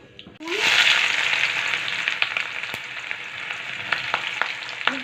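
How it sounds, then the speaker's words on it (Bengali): Onion and garlic frying in a pan, a loud sizzle that bursts in after a sudden drop into hot oil and then settles into a steady hiss with scattered stirring clicks, with no talking. "পেঁয়াজ রসুন ভালো করে ভাজা ভাজা করে লাল লাল করে"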